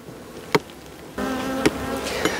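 Honeybees of a living colony buzz steadily at close range, opened in mid-December for winter treatment, with a smoker in use. Sharp clicks or knocks punctuate the even hum, which grows louder partway through.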